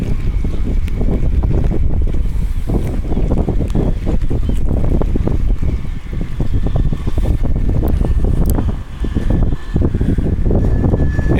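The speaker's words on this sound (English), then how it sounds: "It's really windy." Strong wind buffets the microphone at Morro Bay near Morro Rock on a rainy day, a loud continuous rumbling roar with surging gusts and no talking.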